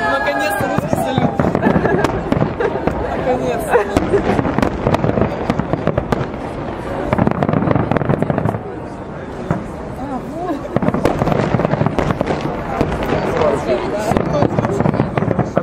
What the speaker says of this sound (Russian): Наконец-то русский салют